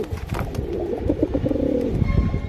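A Pakistani Teddy pigeon coos close up in a low, continuous warbling run over a rumbling background.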